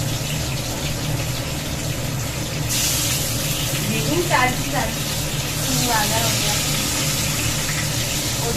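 Eggplant slices frying in a pan, a steady loud sizzle with a low rumbling hum underneath and a couple of brief rising squeaky sounds in the middle.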